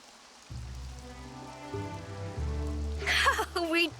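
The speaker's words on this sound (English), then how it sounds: "Now we wait for the rain." Rain in the game Xenoblade Chronicles 3, a steady soft patter underneath low musical tones, swelling into brighter splashy bursts near the end.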